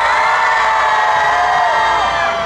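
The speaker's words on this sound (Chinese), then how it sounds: "我来听一下你们的尖叫声一下吧" A huge outdoor Christmas concert crowd in Houlong, Taiwan screams and cheers on cue: a dense, loud, sustained roar of many voices with shrill whoops, steady and unbroken throughout.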